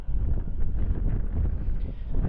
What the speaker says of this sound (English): It sounds like it's really windy.